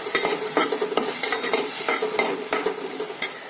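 Spice paste stir-fried in a pan with already-fried potatoes for a bhetki fish curry, sizzling steadily while a utensil scrapes and stirs in quick, irregular strokes, close and alone with no talk.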